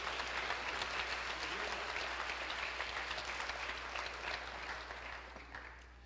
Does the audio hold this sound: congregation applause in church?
yes